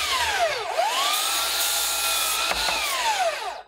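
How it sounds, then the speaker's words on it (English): A power saw cuts a wooden board to length for a patio table leg, one continuous close, loud whining cut lasting a few seconds before spinning down at the end. "First thing I need to do is cut this to 30 inches long"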